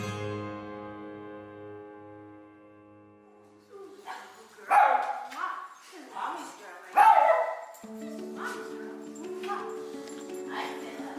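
Several dogs bark in short loud bursts, close by, with whimpers and yips between, after a stretch of music.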